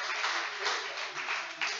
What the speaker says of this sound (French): On va vous applaudir bien fort déjà dans un premier temps pour cette interview